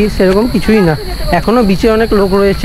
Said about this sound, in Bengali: ঝিঝি পোকার দারুণ আওয়াজ পাওয়া যাচ্ছে।